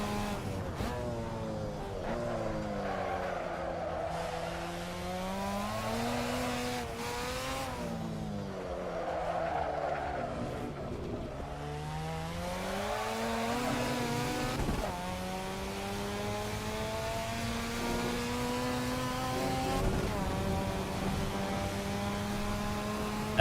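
Race car engines in the driving game Assetto Corsa rev and pull through rising and falling pitch sweeps with quick gear changes, a steady synthetic engine drone lasting the whole stretch with no talking.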